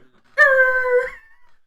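One dog howls loud and close, a steady tonal wail held for about seven tenths of a second before it trails off into silence.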